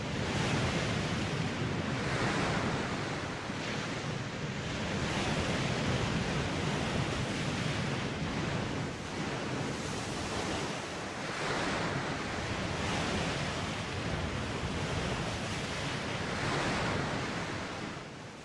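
Ocean waves surge in a loud, continuous wash, with broad swells rising and falling every few seconds and a wind-like hiss throughout, heard alone without voices.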